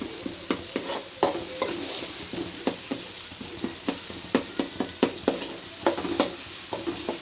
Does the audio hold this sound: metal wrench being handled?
no